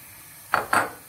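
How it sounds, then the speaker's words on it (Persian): Two quick metallic clanks of a utensil against a pan while chicken fillet is sautéed after the mushrooms are removed, close and fairly loud over a quiet background, with no talk. "بعد از که قارچار رو برداشتم فیله رو تفت میدم"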